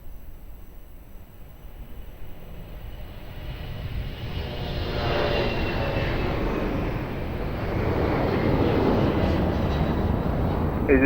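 An airplane lands on runway 02 at Lisbon Airport, its engine roar swelling from a distant rumble into a loud, broad, sustained rush that grows steadily and holds near the end.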